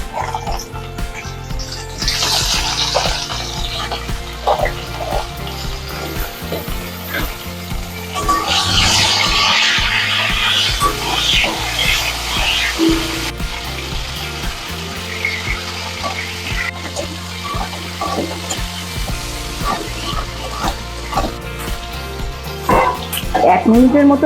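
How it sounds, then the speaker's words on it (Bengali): Crabs fry in hot oil left over from frying potatoes, giving a steady crackling sizzle that swells louder midway, with a person talking over it throughout. "আলু ভাজা তেলের মধ্যে এবার এই কাঁকড়াগুলোকে ভেজে নেব।"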